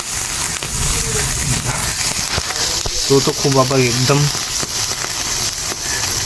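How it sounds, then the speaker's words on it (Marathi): Shellfish sizzle and crackle in oil over a wood-fired stove, with a person speaking briefly in the middle of the steady frying hiss. "आपण सर्वामध्ये ऑइल टाकलाय आणि शिजाचा आवाज पण येतो आहे"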